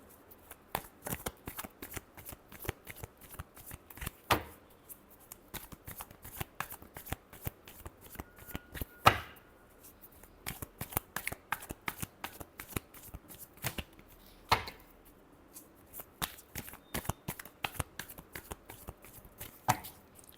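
Tarot cards are shuffled by hand in a steady run of crisp riffles and sharp slaps, with irregular bursts and short pauses spread across the whole stretch, close and fairly quiet.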